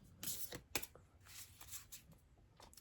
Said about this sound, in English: Let's go ahead and pull some cards